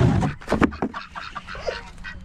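Old Polish ducks and geese call loudly at close range, a burst of overlapping honks and quacks at the start, then scattered, softer calls.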